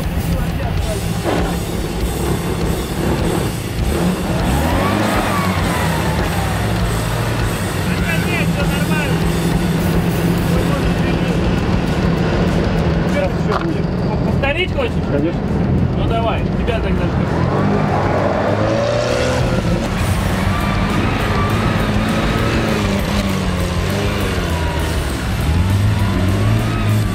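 A UAZ off-road vehicle's engine runs on a mountain slope, revving and straining loudly up close. The pitch rises and falls over the whole stretch while people talk over it.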